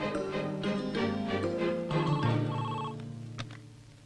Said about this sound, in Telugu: హాస్పిటల్ నుంచి ఫోన్